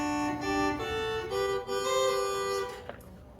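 Irish uilleann pipes with the regulators sounding harmony chords under the chanter, sustained and reedy, the chords shifting a few times before cutting off near the end.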